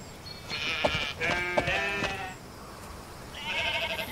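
Sheep bleat in the video game Off The Record: a wavering bleat, then a second doubled call, and another beginning near the end, fairly close against a faint background.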